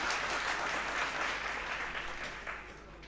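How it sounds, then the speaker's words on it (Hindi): A large audience at a religious gathering at Pandokhar Dham applauds loudly and continuously, a dense wash of clapping that holds steady and then eases slightly at the end. "इसके लिए आपको ताली बजाकर सब लोग उनको धन्यवाद दें।"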